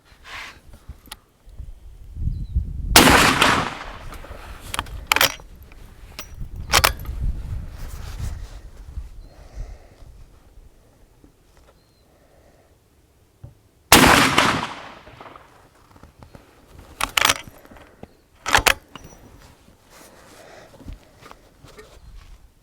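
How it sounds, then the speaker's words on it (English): Rossi Model 92 stainless steel .44 Magnum lever-action rifle fires 240 grain soft point rounds outdoors, two loud sharp shots well apart, each trailed by quieter clacks and rustling of lever cycling and handling. "I've just got the 240 grain soft points from Gecko, and we'll just see how they shoot through the Rossi."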